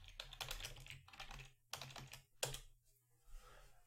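Rapid clicking keystrokes on a computer keyboard come in quick bursts separated by short pauses, close and fairly quiet, with no talking.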